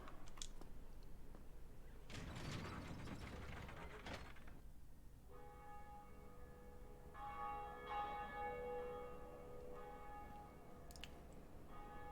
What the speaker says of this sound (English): I ring the ding dong bell.